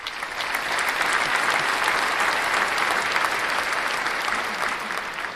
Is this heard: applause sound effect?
yes